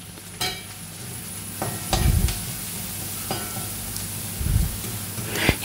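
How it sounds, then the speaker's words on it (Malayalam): Ivy gourd thoran sizzles gently in a frying pan while a utensil stirs and scrapes it in a few distinct bursts, with sharp clinks against the pan and no talking. "ഇനി ഇടയ്ക്കിടയ്ക്ക് ഇളക്കണം"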